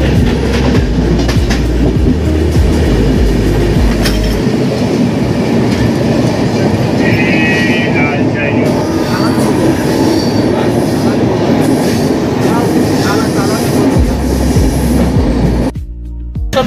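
Howrah–Mumbai Mail train running on the rails: a loud, continuous rumble with rhythmic wheel clatter and occasional high wheel squeal, steady throughout and up close with no talking.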